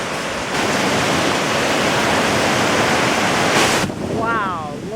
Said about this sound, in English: Gorgeous waterfall.